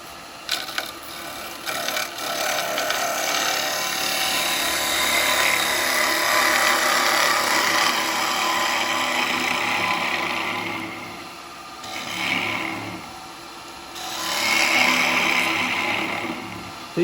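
A chisel cutting a natural-edge wooden bowl spinning on a lathe makes a continuous loud hiss and scrape close by. Its tone swells and fades as the cut changes, with a brief drop around the middle and no voices.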